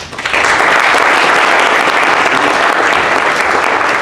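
A forum audience bursts into loud, sustained applause that swells quickly and holds steady as a dense wash of clapping at a community hate crimes meeting.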